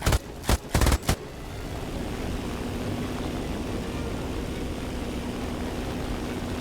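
A Stuka dive bomber in War Thunder drones steadily with a constant propeller hum, opening with a short burst of rapid gunfire before the engine sound carries on alone.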